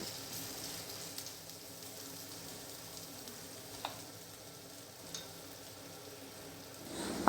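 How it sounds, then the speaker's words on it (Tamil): Green chillies and ginger garlic paste sizzling in hot oil for a poriyal, a steady close frying hiss with a few soft stirring knocks and a louder scrape at the end, no talk. "பச்சை மிளகா நல்லா அந்த எண்ணெயில் வதங்கட்டும்"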